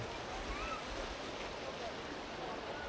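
Steady rushing water of a river near its source at Verinag spring in Kashmir flows fast and continuously, a broad dense noise with no pauses.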